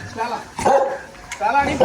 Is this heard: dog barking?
yes